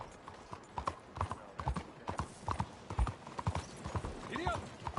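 Horse hooves clip-clop in the Red Dead Redemption 2 video game, a steady clear rhythm of hoof strikes near at hand, with a faint whinny toward the end.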